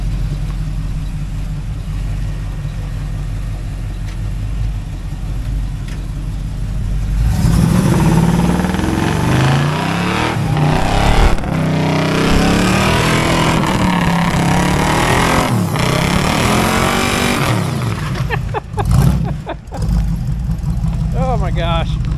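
A Chevrolet El Camino's engine idles, then revs hard as one rear wheel spins on concrete, a loud, close, sustained roar with rising and falling pitch, and voices talk over it.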